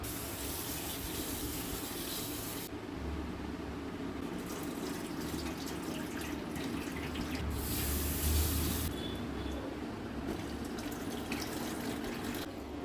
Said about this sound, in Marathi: आता आपण डाळ धुवून घेऊ.